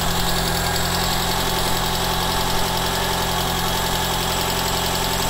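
A small engine idles with the choke on, a loud, steady mid-pitched drone with continuous vibration and no talking.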